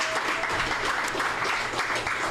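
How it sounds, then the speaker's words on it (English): An audience applauds a school principal at a high school gathering, steady dense clapping that fills the space for a couple of seconds, close and loud. "if everybody wants to give me a round of applause because she deserves this"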